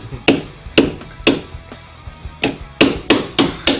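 Sharp hammer blows ring out up close while a snorkel is fitted to an RC truck body, with seven loud strikes in uneven bursts and short pauses between.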